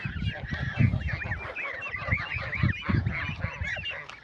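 Geese honk repeatedly in a home garden where ducks also forage on barley and wheat. The calls are close and overlapping, with loud nasal honks rising and falling over a few seconds and no talking.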